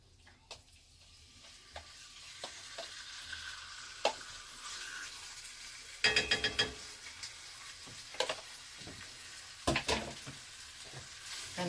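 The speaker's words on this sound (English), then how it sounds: "we're going to put this in our frying pan on a" Chicken seasoned with garam masala sizzles in a frying pan over high heat, a quiet steady hiss broken by scattered clicks and scraping stirs against the pan.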